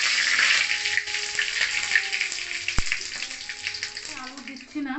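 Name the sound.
whole spices tempering, frying in hot oil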